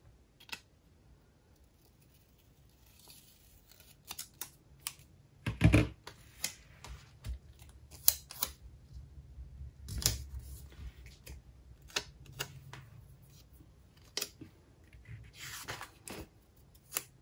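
Scissors snip through a paper planner sticker in quiet, sparse, sharp clicks and short crisp cuts spread across the stretch, close and faint with near silence between.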